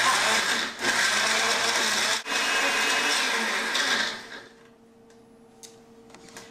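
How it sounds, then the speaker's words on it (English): A blender whirs loudly while blending Caribbean pork marinade ingredients, briefly dipping twice, then cuts off, leaving a quiet room with a few small clicks. "we're going to begin and blend all of these different ingredients"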